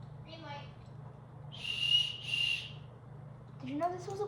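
A small plastic emergency whistle from a survival kit gives two short, shrill blasts close by, with a low hum underneath and brief chirpy sounds around them.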